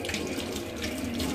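Tap water runs steadily over purple sea moss being washed in a sink, a continuous close hiss of flowing water with no voices.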